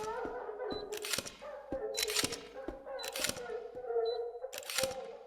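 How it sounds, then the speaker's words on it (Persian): Camera flash in the horror video game The Gretlow Tapes fires four times at roughly one-second intervals, each a sharp click followed by a bright whooshing charge-up burst, with a low droning tone between them. "باید با استفاده از فلشر دوربین برای خودمون یه نور"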